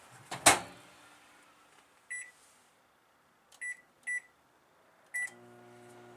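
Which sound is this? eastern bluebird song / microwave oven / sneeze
microwave oven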